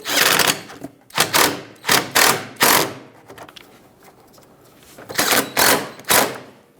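Bolts on the radiator air duct of a 2012-2018 Nissan Altima are driven in with a power tool, which gives a series of short, loud mechanical whirring bursts in quick clusters with brief pauses between them.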